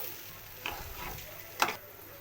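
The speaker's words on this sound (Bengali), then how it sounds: "চালগুলো একটু ভালোভাবে ভেজে নিতে হবে।" Rice and lentils frying and being stirred in a pan for khichuri, a soft dry sizzle with a few scraping stirs, the loudest near the end, close and alone without talk.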